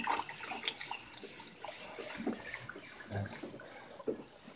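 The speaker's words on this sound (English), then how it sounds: "Filling up her water dish for her." Water runs into a dog's water dish indoors, a splashing trickle with faint clinks and shuffling, moderately quiet and close, with no speech.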